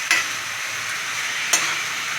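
Stirring chopped tomato into capsicum gravy in a pan, a steady sizzle with two sharp scrape-and-clink strokes of the spoon, close and alone, no talking.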